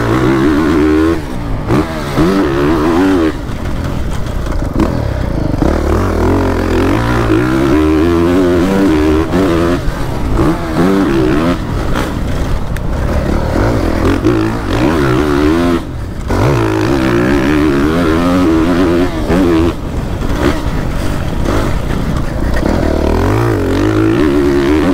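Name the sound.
motocross bike riding over jumps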